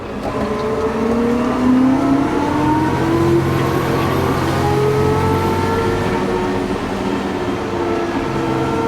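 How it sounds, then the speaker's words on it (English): Loud, continuous road traffic rolls past a farm field, with engine and tire noise rising and falling and overlapping drones of vehicles passing close by, with no talking. "And the traffic."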